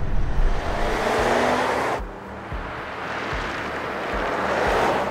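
Inside a 2017 Mercedes GLA while driving, a loud, constant roar of engine, road and wind noise with a low rumble that dips slightly midway, no speech.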